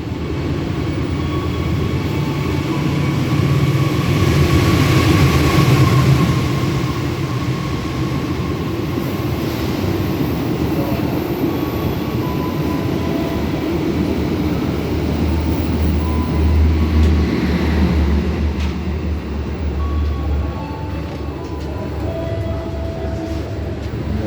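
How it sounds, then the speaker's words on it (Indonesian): KA Parahyangan passenger train, bound for Bandung from Jakarta Gambir, running straight through track 6 at Cikarang station without stopping: a loud, steady rumble and rattle of wheels and cars that lasts throughout, swelling slightly early on. "akan melintas langsung di jalur 6 stasiun Cikarang KA Parahyangan menuju stasiun Bandung"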